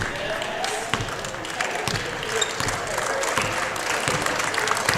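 Applause from a high school basketball crowd after the final buzzer, a steady wash of clapping with a few sharper claps, cheers and voices mixed in.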